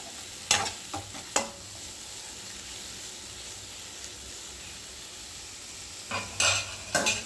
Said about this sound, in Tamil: காளான் நல்லா வதங்கட்டும்